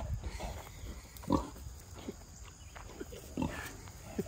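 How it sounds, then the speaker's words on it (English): Pigs, including many piglets, grunting and oinking at a Missouri roadside park, with a few short louder grunts standing out over a steady low background of snuffling. "Lots of baby pigs."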